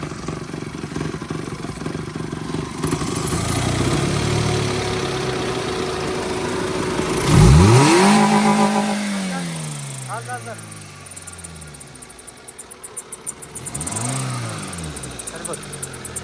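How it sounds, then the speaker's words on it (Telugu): Hyundai i10 Magna 1.1L petrol+LPG 2012 engine idling with AC on, then revved to about 2000 rpm twice, each rev a sharp rise and fall in pitch over a steady idle, close by, with someone talking. "ఏసీ ఆన్ చేసి టూ థౌజండ్ వరకు ఆర్పిఎం రేసింగ్"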